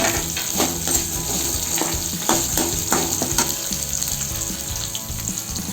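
Onions and dried red chillies sizzle in oil in a pan for a peanut chutney, a close, constant frying hiss with repeated scraping and stirring knocks.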